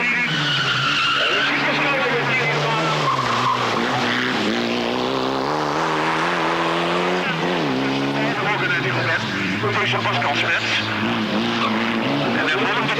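Group A rally cars race flat out on dry Belgian roads during a 1996 rally, engines roaring loud and continuous with rising and falling revs and shifting pitch throughout, a commentator speaking over the noise.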